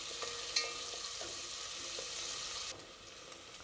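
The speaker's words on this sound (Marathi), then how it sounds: "आता मी त्यामध्ये कांदा घालते। कांदा मी 2 मिनिटं चांगला परतून घेणार आहे।" Chopped onion sizzles and crackles softly in hot oil in a pan for a dry mutton dish, with faint stirring scrapes under the steady fry.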